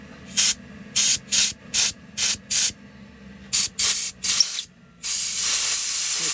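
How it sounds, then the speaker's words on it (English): Compressed air blasts grease out of the inducer fan motor bearing on a 20-year-old Carrier furnace, about ten short sharp hissing bursts in an even rhythm, then a longer sustained blast, loud and close. "I'm going to try to blow this out and catch all the grease"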